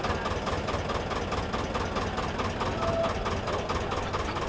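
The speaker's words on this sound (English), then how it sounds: "A boat making some noise." A boat engine idling with a steady, rhythmic chugging and low knocking throb, continuous and fairly close.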